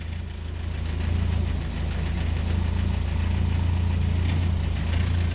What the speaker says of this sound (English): I think it's idling a little high. But it's idling.